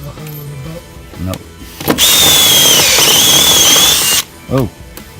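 A power drill runs steadily for about two seconds while boring into an old boat being restored. The whine is loud and close, and voices talk just before and after it.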